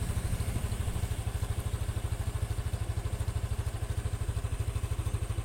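A Honda Scoopy scooter engine idles steadily and smoothly after servicing, with an even, rapid low thrum and faint mechanical clatter, close up, no voices.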